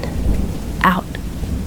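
Steady rain falls on a city apartment at night, a continuous soft wash with a brief low rumble of thunder near the middle.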